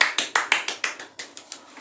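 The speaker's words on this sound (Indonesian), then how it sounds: "Tepuk tangan untuk kelompoknya Laras." Applause from a primary school class for a student group: eleven sharp, evenly spaced claps in quick succession, close and clear, gradually softening.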